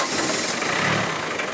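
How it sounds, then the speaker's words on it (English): A Ford four-cylinder diesel engine turns over and settles into a steady, close rumble, holding an even, slightly rough tone throughout without any voices. "And when the engine is ignited,"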